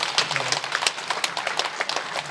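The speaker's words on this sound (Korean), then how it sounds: "주님께 영광을 박수 드리겠습니다." A church congregation at a prayer meeting breaks into applause, a busy crackle of many hands clapping together at a fairly strong level, with a faint murmur of voices underneath.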